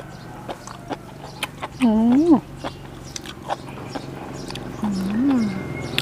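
Crunchy bites and chewing of a spicy Thai enoki mushroom salad with shrimp, close to the mouth, with a person talking between the mouthfuls.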